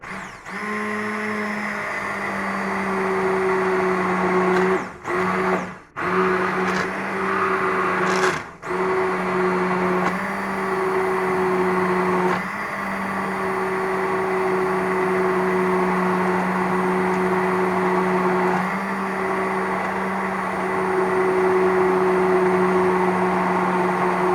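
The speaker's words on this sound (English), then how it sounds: "But first we'll puree this up" A kitchen blender purees vegetables for dehydrated vegetable powder, running as a steady loud whirring drone with two brief pauses early on, then continuing unbroken to the end.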